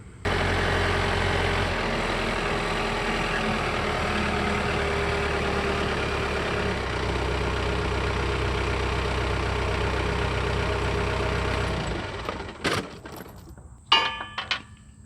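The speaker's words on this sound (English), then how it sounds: "I'm going to pull the tractor up here" A John Deere 4052R compact tractor engine idles with a steady low rumble for most of the clip, then shuts down, followed by a few clanks and rattles.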